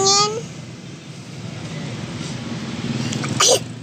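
A single sharp sneeze bursts out near the end, preceded by a brief high squeal and soft room noise.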